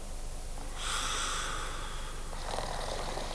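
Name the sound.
person snoring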